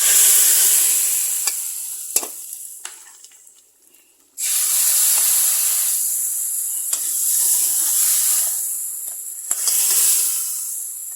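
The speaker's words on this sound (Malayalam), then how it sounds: "നമുക്കിതിലേക്ക് കുറച്ച് എണ്ണ തളിച്ചൊഴിക്കാം." Oil sprinkled onto simmering chicken curry in a pan sets off a loud, bright hiss of sizzling that briefly fades, then surges back and continues close up with occasional clicks of stirring.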